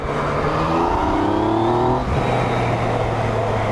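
A 2017 Yamaha MT-09 three-cylinder motorcycle in standard mode, throttle pinned from second gear: the engine revs climb hard and loud, a brief dip at a shift, then it pulls again at a steady roar.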